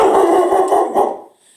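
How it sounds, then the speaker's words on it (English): A dog barks and howls loudly and continuously in a dense, rhythmic run of calls, fading away over the last moments with no one talking. "Sorry about the dog barking in the background."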